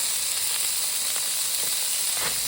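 A burger sizzles on a 28-inch Blackstone griddle, a steady close hiss and crackle with faint scraping ticks, no one speaking.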